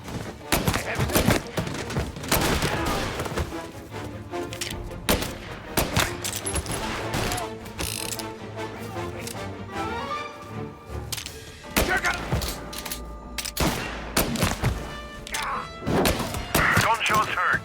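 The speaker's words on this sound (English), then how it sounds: "Gunshots heard." Gunfire erupts in a shootout in the video game Mafia Definitive Edition: rapid bursts and single shots crack repeatedly alongside thuds and shattering, with game dialogue and music mixed in.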